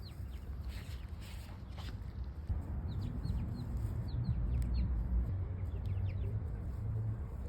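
Backyard hens cluck and chatter over a treat of red cherries and strawberries, soft repeated calls scattered across a steady outdoor background with faint footsteps, no talking.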